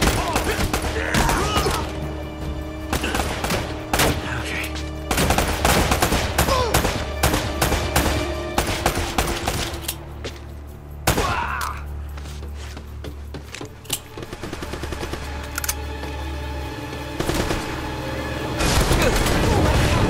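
Rapid gunfire fills a firefight in the video game Uncharted: Drake's Fortune, dense bursts and single shots crackling over a low rumbling background, with voices heard in between.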